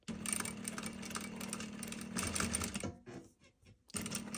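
A sewing machine stitches a small patch pocket with a steady, rapid mechanical hum and clatter up close. The run breaks off briefly near the end and then picks up again.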